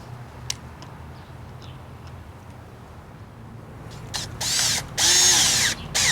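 A cordless drill drives screws into trim molding on a DIY travel trailer, with a few faint ticks and clicks followed by short, close, loud whirring bursts near the end.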